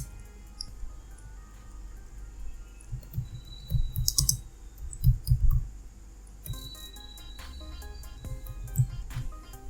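Keys tapped on a computer keyboard while entering text in an Excel spreadsheet, bursts of close clicks clustered in the middle and later, with quiet gaps between.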